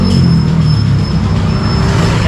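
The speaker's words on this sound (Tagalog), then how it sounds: "Pisilin niyo yung lever, sabay pindutin niyo yung starter." A 2026 Honda Click 125 V4 scooter is electric-started and runs with a steady, loud, close engine drone and a faint high whine, no talking.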